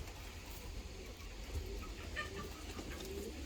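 Pigeons from Kayseri softly coo and flutter as their shipping box is opened, faint and somewhat distant, over a low rumbling background.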